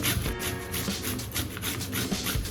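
A peeled sweet potato is grated on a kitchen grater, giving a steady run of close, rasping scraping strokes with no talking.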